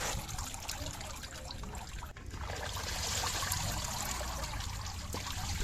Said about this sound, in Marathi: आता यामध्ये चिंच पाणी जे आहे हे ऍड केलं जात आहे.